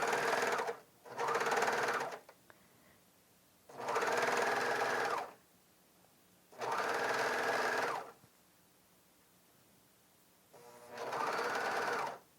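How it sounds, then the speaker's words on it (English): A Bernina 700D serger sews piping with the multipurpose foot in four loud, close bursts of fast whirring stitching, separated by short quiet pauses. "Just keep the edges even, and the serger will do the rest of the work for you."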